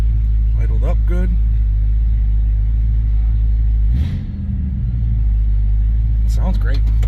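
A 1971 Dodge Polara V8 idles with a deep, loud, continuous low rumble close by, while someone talks briefly over it.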